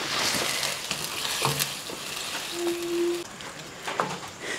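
Mashed pumpkin curry is stirred in a pan, a gentle sizzle broken by spoon scrapes and clinks against the metal, plus a short high whistle-like tone midway, close and without talk.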